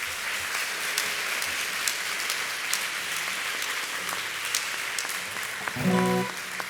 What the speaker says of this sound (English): So let's give the Board of Trustees a round of applause.